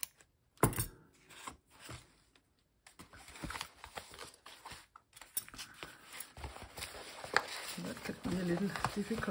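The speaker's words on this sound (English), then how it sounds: "I will just cut the page clean" A paper page of a handmade flip flop book, embellished with marks and still slightly damp, is cut through in short crisp snips and rustles, with pauses at first and then steadier handling; a voice talks quietly in the background.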